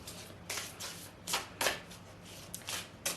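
Oracle cards are handled and shuffled for a reading, giving soft, papery riffles and flicks in irregular bursts, quiet and close with no talking.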